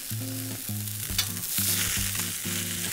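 Tuna searing in a hot dry sauté pan with no oil, a steady close sizzle running throughout with a few brief bumps and scrapes from handling the fish.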